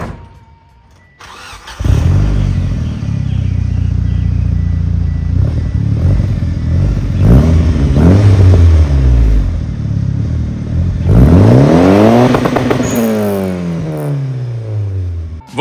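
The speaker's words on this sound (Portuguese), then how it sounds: "Eu vou dar uma acelerada pra vocês verem como que ficou o ronco agora." A Mitsubishi Eclipse engine with a K&N filter starts and revs repeatedly, its throaty modified exhaust rising and falling in loud, deep roars, close by.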